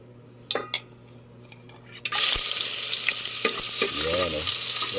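Garlic dropped into hot oil in a pan: a few clanks of a utensil, then a sudden, loud, continuous sizzle with light scraping underneath.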